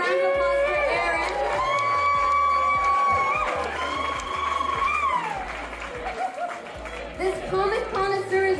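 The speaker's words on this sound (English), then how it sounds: "Let's give a round of applause for Erin." An audience cheers and claps for an artist at a live painting event in Victoria, a loud crowd roar with shouts and whistles over steady applause, voices rising throughout.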